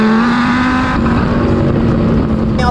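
Supercharged Dodge Viper SRT-10 engine accelerating on cold asphalt, a loud, close, continuous droning roar with a steady low pitch and a slight rise in tone across the few seconds.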